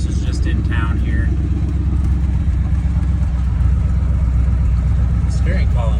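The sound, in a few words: 1981 Chevy C10 truck engine running while driving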